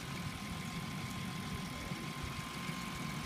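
A 2007 Chevrolet Equinox 3.4 liter V6 engine runs steadily on a test stand, a constant low rumbling idle with a faint whine, with no talking.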